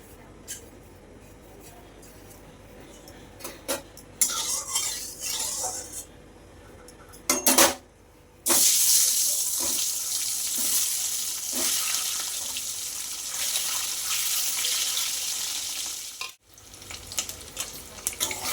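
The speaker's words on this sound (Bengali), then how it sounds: "দেখো ডিমগুলো ভাজা হয়ে গেছে আমার আমি একটু লাল লাল করে ডিমগুলো ভেজে নিয়েছি" Duck eggs fry in oil in a pan, a hissing sizzle that swells loudly after a few clattering handling sounds, then drops out near the end, with some quiet talk over it.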